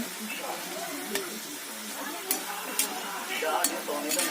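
Khurma dough pieces frying in overly hot oil, a close bubbling sizzle punctuated by several sharp clinks of a utensil against the pan, growing busier toward the end.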